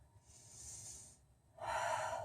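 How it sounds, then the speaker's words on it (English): Deep breathing during a balancing yoga practice: a soft, airy inhale followed by a pause, then a stronger, louder exhale, close and alone. "3 deep breaths here."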